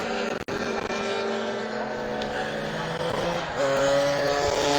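Stock scooter engines at a Lydden Hill race buzz and whine continuously, pitch rising and falling as the machines work through gears, loud and fairly close, with a sudden thump early and a higher engine note swelling toward the end.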